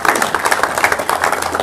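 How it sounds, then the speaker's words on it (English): Applause from a veterans' organization audience at a national commander's visit: dense, steady clapping from many hands filling the room, close and fairly loud, with no talk over it. "Give yourselves a round of applause."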